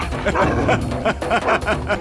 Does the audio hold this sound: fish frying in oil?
no